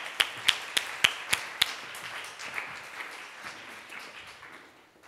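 An audience applauds a volunteer coming on stage at a presentation talk: a few crisp, evenly spaced claps up front give way to softer scattered applause that slowly fades out.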